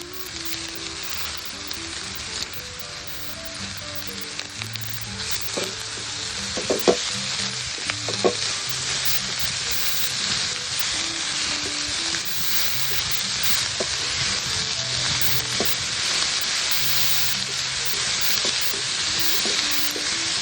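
Cabbage sizzles and fries in a pan for an Agri-style vegetable dish, a continuous bright crackling hiss with occasional stirring knocks and scrapes, close and moderately loud.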